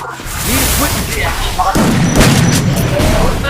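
Booming gunfire from a shooter video game played at an offline tournament, with repeated loud thuds and whooshes packed close together while players talk over the shots.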